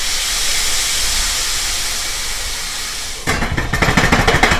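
Shrimp water poured into a hot pan of frying vegetables, a loud steady steam hiss that breaks into sputtering, crackling bubbling, close by and continuous with no voices.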